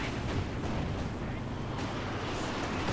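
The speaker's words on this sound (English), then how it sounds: "Panzerwerfer barrage coming in" A Panzerwerfer rocket artillery barrage in a video game: a continuous, heavy, rumbling wash of launches and blasts that stays loud and steady throughout.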